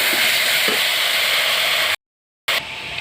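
Soybean chunks and potato sauté in a pan with ginger, green chili and tomato paste, giving a loud, steady, close sizzle throughout, broken by a brief silent gap before the frying resumes.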